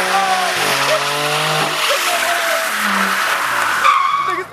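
A car does burnout spins on wet, slippery ground at a burnout competition. The engine roars loudly and the tires squeal and skid close by, with crowd voices audible under the noise.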